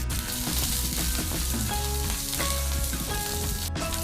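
Slit green chillies and chopped garlic fry in hot oil with a steady, close crackling sizzle and occasional stirring, no talk.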